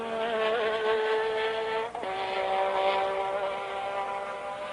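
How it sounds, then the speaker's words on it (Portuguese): Formula 1 car engine at the 1984 Brazilian Grand Prix, a sustained high-pitched whining roar that drops abruptly in pitch midway as the car sweeps past, then carries on steadily. "o ronco do motor quando ele passa"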